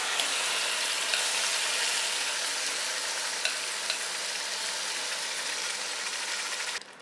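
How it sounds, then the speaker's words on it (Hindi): Marinated chicken with onions frying over high heat in a pot, a loud, dense, steady sizzle heard up close for several seconds before it abruptly drops off at the end. "अब चिकन को 2 मिनट तेज़ आंच पे फ्राई करेंगे।"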